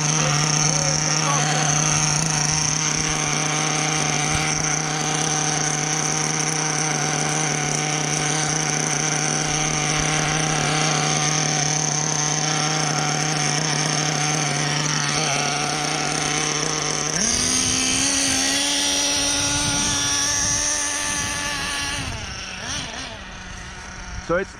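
A HoBao Hyper VS2 nitro RC car with a v19 engine runs during a speed test, giving a loud, continuous high buzzing whine whose pitch jumps upward near the end before fading slightly.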